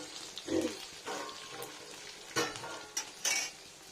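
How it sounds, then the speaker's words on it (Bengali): Homemade biuli dal (black gram lentil) dumplings fry in a pan for a vegetable shukto, a gentle sizzle broken by short bursts of spoon scraping and light clatter against the pan. "এটা ঠিকঠাক করে ভাজতে হবে খুব কাঁচাও রাখা চলবে না আর খুব খড়ি দেওয়াও যাবে না"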